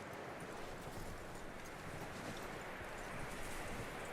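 Horse hooves clip-clop continuously in Red Dead Redemption 2, set in the game's western world, under a constant loud wash of ambient noise that blurs the individual hoofbeats.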